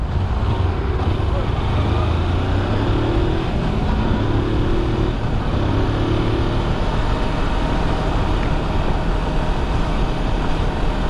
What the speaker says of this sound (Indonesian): Aduh, mobil.